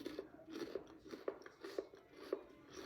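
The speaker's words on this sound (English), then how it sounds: "Can you hear that crunch?" Crispy semi-homemade garlic parmesan snack crackers being chewed close up, giving a quiet series of about six rhythmic crunches with no talking.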